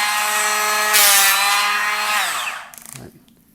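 Bosch GHO 12V cordless planer taking a shallow pass along the edge of a pine board: a high whining motor with a rising hiss as the blades bite, then the pitch winding down and a few clicks as it stops.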